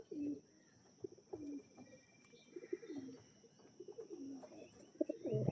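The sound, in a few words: pigeons cooing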